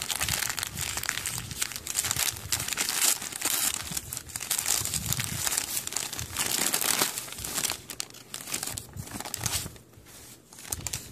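Plastic wrapping of a taped Etsy clothing package crinkles and tears as it is opened, loud, close and continuous for about eleven seconds with brief pauses near the end.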